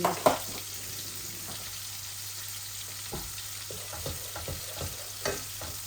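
Fenugreek seeds sizzle in hot oil while rui fish cooks with flat beans, a steady close frying hiss marked by a few sharp crackles and stirring clicks, with no talking over it.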